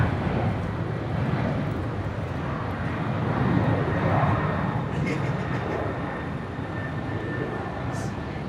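A Qantas airliner passing at Brisbane International Airport produces a broad, steady roar that swells slightly toward the middle and carries on, with voices faintly heard beneath it.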